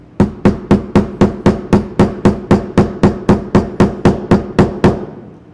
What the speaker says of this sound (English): you can see it's like I just have to hammer like this section a little bit more